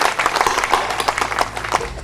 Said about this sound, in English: give a big round of applause for Gin